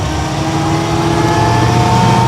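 A 1929 Marmon Model 78 sedan pulls away in second gear, its engine giving a steady, moderately loud mid-range drone with a low rumble that holds evenly throughout, close by and with no talk over it.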